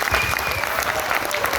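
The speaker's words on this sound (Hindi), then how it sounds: "जबरदस्त तालियां भोपाल से आ गए" Loud, dense clapping from an audience in Bhopal during a business motivational event, a continuous burst of many hands with no voices on top.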